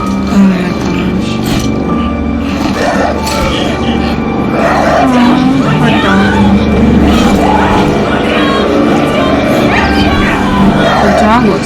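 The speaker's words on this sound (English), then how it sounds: "Oh, poor dog. The dog looks messed up." A dog whimpers and yips in Metro Exodus, thin high cries rising repeatedly over a loud, constant engine-like rumble, with voices talking throughout.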